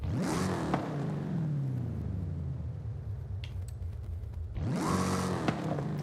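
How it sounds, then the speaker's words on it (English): Car exhaust in Forza Horizon 5 with a Hellcat or Trackhawk-like tone, revving up in a rising, then falling roar, easing to a lower rumble before a second surge climbs back up near the end. "This sounds more like a Hellcat now. Or a Trackhawk."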